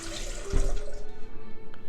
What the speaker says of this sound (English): We're going to start out with a cup and a half of warm water.